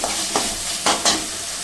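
Potatoes tipped into frying masala and stirred in a pan while cooking an aloo soyabean curd curry, a steady sizzle broken by a few short scraping stirs, loud and close.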